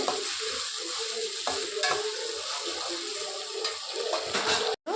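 Tomatoes being mashed and stirred in a pan for an eggplant curry give a steady sizzle with repeated soft scraping and stirring strokes, close and continuous, ending abruptly.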